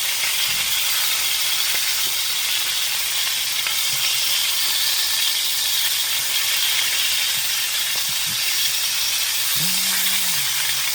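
Sticky pork ribs sizzle in a hot pan after being turned, a steady, loud frying hiss that runs unbroken throughout, close up, with a few faint clinks and thumps underneath.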